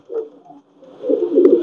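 A Pakistani Teddy pigeon coos close by, one short low note followed by a longer, louder rolling coo, with no voices.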